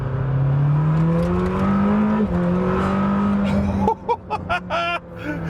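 Lamborghini Temerario, a $450,000 supercar, pulling hard at about two-thirds throttle: a loud, steadily rising engine note heard from inside, cut off abruptly, followed by a few seconds of talking.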